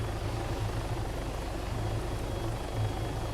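Helicopter in the Arma 3 video game, a steady low rotor thrum and engine drone filling the whole stretch at an even, moderate level with no talk.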